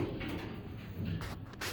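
Sliding doors of a Westinghouse hydraulic elevator at Union Station in St. Louis rolling shut, a low steady rumble with a soft thud near the end, close and fairly quiet.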